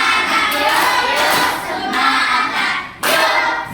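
A sixth-grade class in Maros, Indonesia, performs the 'tepuk semangat' clapping chant, loud children's voices shouting in rhythmic bursts with claps and thumps mixed in, filling the room.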